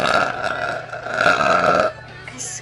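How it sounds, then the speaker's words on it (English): A loud, deep burp rolls out for nearly two seconds from a streamer with gas, close and alone, ending abruptly into quieter room sound. "You made me burp."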